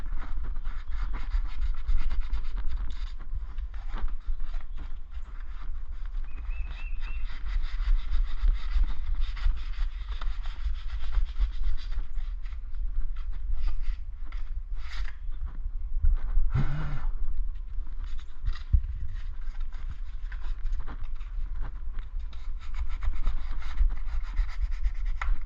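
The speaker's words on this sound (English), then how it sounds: "I got some sandpaper here." Sandpaper scrubbing rear car brake parts, a continuous gritty rubbing close by that keeps going for about twenty-five seconds with no talk.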